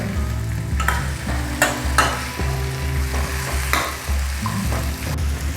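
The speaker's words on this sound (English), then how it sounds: "As the size of my kadai is very small, so I'm finding it difficult to stir it and mix it properly" Potatoes stirred in a small kadai for aloo bhujiya, a spoon scraping and clacking against the pan in irregular strokes over a steady low sizzle, close and fairly loud with no talking.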